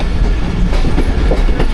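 The Khyber Mail passenger train runs through Taxila Cantt junction without stopping, giving a loud, close, steady rumble with rhythmic wheel clatter on the rails.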